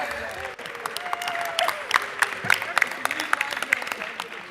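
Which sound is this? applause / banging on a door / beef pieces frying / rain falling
applause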